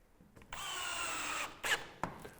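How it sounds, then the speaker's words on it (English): A power drill drives a screw into the end bracket of a Velux centre-pivot roof window, whining close and steadily for about a second, then giving two short bursts. "we're going to screw this end bracket in place"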